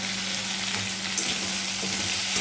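Chopped onion frying in a pan alongside gati kochu taro for a prawn curry, giving a steady, close, even sizzle with occasional stirring scrapes and no talking.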